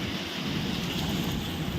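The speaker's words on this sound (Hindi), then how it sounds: "फुल तूफान चल रहा है।" A strong seasonal windstorm bringing the first rain of the season, heard as a loud, steady, broadband roar of wind buffeting the microphone, with no pauses and no voices.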